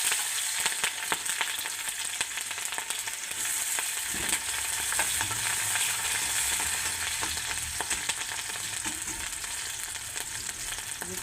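Onion and green chili frying in a pan for a vegetable chicken cheese roll, a steady close sizzle with occasional stirring scrapes and no talk.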